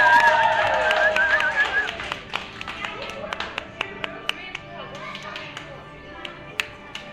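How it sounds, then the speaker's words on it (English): Riders on the Dragonflier, a suspended family roller coaster at Dollywood, clap in scattered bursts that thin into sparse single claps, with people talking and calling out over the ride noise. "Hey, you don't have to be the last to clap."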